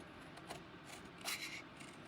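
Scissors snip through a paper cutout, tracing around the edge of a stamped heart craft piece; quiet, close, soft rasping cuts with one slightly louder crisp snip partway through.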